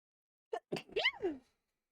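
A single sharp sneeze, close and fairly quiet, with a short intake of breath before it and silence afterward.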